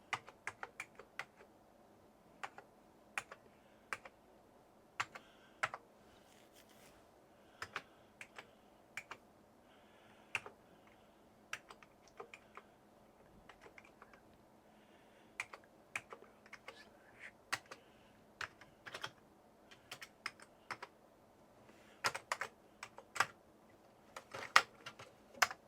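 Keys clack on a refurbished Amiga A1200 computer keyboard in irregular bursts of sharp, close clicks over a quiet background hum, with short pauses between runs.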